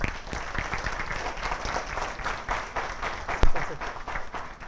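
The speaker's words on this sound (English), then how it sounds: "Clap for her." An audience at a Zumba dance session claps for a participant, a light, fairly quiet patter of hands with a few sharper claps standing out, without speech over it.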